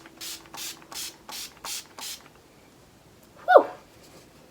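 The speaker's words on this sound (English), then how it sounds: "I just spray my skin with some Urban Decay All Nighter setting spray" Six quick bursts of Urban Decay All Nighter setting spray hiss onto skin in an even rhythm, close and fairly soft, followed by a short pause and a brief rustling sound.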